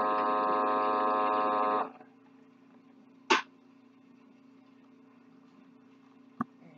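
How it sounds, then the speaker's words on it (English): A manual vacuum sealer runs with a loud steady motor hum for about two seconds, then cuts off, leaving a faint background hum with a brief sharp click at mid-point and another near the end. "And it has the vacuum seal, manual, outside back"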